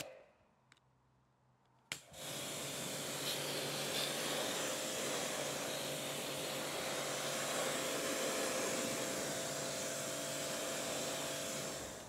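Steady broadband hiss of water spray rinsing a car wheel just treated with wheel cleaner, starting abruptly after a short quiet moment and holding loud and even to the end.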